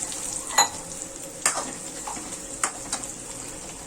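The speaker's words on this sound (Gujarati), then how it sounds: "અને પાત્રા વઘારી દઈએ આપણે." Patra tempered in a pan with mustard seeds and sesame, a continuous frying hiss broken by several distinct stirring scrapes and clanks of a spoon against the pan, close up.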